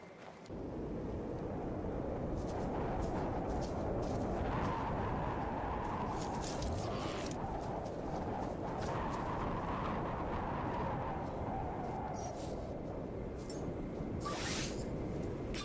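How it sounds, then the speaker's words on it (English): Storm wind in the No Man's Sky video game roars loudly and continuously on an alien planet, a thick rushing gust with no pauses. "Bit of a storm blowing."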